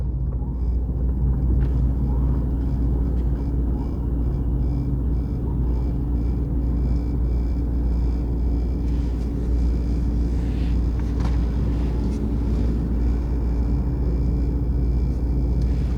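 A Mercedes-AMG GT63 S driven in race mode gives a steady, heavy low rumble of engine and road noise from inside the cabin, continuous and loud throughout with no talk.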